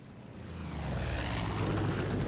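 A propeller plane flies overhead in the Far Cry 5 video game, its steady droning engine roar swelling gradually louder as it nears, heard alone without talk.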